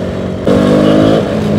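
A motorcycle engine revs up sharply and holds a rising, buzzing drone for a moment before easing off, loud and close.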